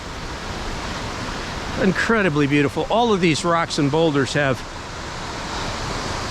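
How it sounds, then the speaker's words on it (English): Meadow Run water flowing over rocks and boulders at Cucumber Falls in Ohiopyle, a constant broadband rush heard alone at first, then under someone speaking in the middle. "this is a total beautiful wonderland of rocks and water of the Meadow Run coming down to the Youghiogheny River"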